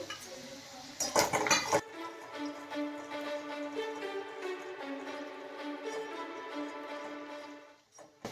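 Onion, chillies, garlic and chopped raw mango being stirred and sautéed in a pan, with a burst of metallic spoon clinks against the pan early on and then a steady close sizzle.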